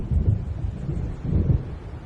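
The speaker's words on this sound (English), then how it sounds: "It seems there's a storm coming." Deep thunder rumbles from an approaching storm in the video game Alan Wake, two heavy rolling swells about a second apart, loud and close, with no voices.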